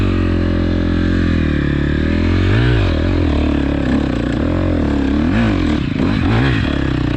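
KTM 250 XC-F dirt bike engine, loud and close, droning steadily then revving up and down in several throttle blips with some clatter, no talk over it.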